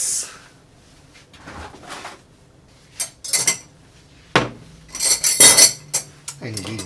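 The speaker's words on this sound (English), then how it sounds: "Then we're gonna get some ice" Ice cubes clatter into a cocktail mixing glass for a gin drink, a run of sharp, bright clinks and rattles in uneven bursts, some louder clusters near the end, close by and mostly alone.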